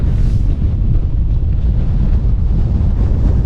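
Strong wind on a mountain near Beinn Ghlas, blasting against the microphone in a heavy low roar with uneven gusts, loud and continuous with no voices.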